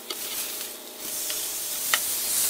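Burgers fry in a pan with a steady close sizzle, broken by a few soft clicks and scrapes from a spatula, and no one speaks.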